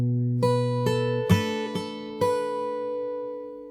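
Fingerstyle acoustic guitar plays a passage with five crisp plucked attacks ringing over sustained low bass notes, close and clear with no voices.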